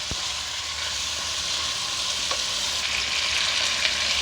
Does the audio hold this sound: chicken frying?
yes